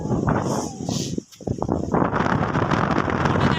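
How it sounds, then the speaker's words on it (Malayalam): Steady wind buffeting a microphone outdoors near the British bridge in Palakkad, Kerala, a broad continuous rush with a brief lull partway through before it picks up again. "നല്ല കാറ്റുണ്ട്, നല്ല ക്ലൈമറ്റ്"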